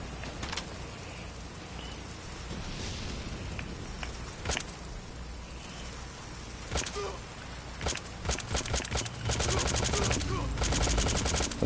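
Gunfire from a gun in Metal Gear Solid V comes as scattered sharp shots and then dense rapid bursts near the end, over a steady game background.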